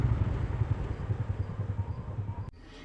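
A motorbike engine putters steadily nearby with a low, pulsing thrum, then cuts out abruptly, leaving quiet background.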